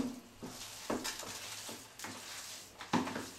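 Meatball mixture of ground meat, egg and washed rice is stirred and turned by hand, giving quiet, close, rhythmic squelching and scraping strokes in a bowl.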